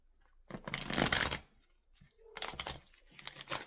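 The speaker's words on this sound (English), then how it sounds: "Did you guys just see me shuffling those cards up like that?" Tarot cards are shuffled in two quick riffling bursts, crisp and close, with a short pause between them.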